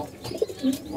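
Domestic pigeons kept in a box at home give two short low coos up close, one after the other, alone without speech.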